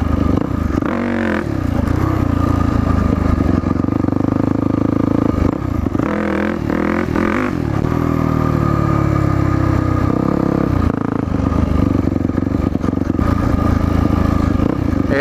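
Dirt bike engine during wheelie practice on sand, loud and close, revving up and down repeatedly with surging throttle bursts and wheel-spin roar, with wind and clatter throughout.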